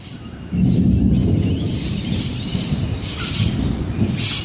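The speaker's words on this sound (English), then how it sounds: "Yes, thunder and birds." Rolling thunder rumbles loudly over Sydney, Australia during a storm, while birds chirp and call in bright bursts on top of the low roar.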